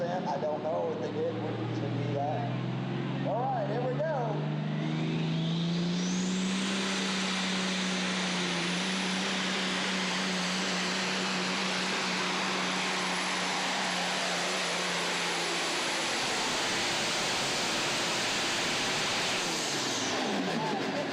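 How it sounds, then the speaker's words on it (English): A Peterbilt hot rod semi truck roars under heavy load during a truck pull at Goshen, Indiana, its engine droning loud and steady for a long stretch with a high turbo whistle, while an announcer talks over the noise. "the Peterbilt chugging hard there right to the very end"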